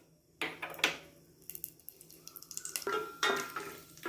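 Cashews and chana dal fry in two spoons of ghee in a pan, with soft sizzling broken by sharp clinks and scrapes of a spoon stirring against metal, close and fairly quiet.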